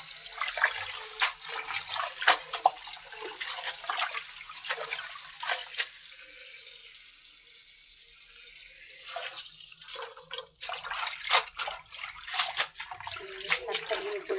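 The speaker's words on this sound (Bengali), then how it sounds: "দেখুন লাল শাক বেটে নিয়ে ধুয়ে নিচ্ছি।" Red amaranth greens being washed under running water, with splashing and rushing flow that comes and goes in bursts, easing off briefly midway before returning, close and fairly loud.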